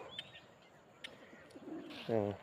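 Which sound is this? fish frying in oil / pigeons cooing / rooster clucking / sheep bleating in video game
pigeons cooing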